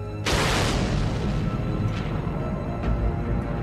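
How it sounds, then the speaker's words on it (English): An asteroid fireball bursts in the sky with a sudden loud boom, then a long, heavy rumble that keeps rolling and fading slowly. "A horrendous explosion in the sky."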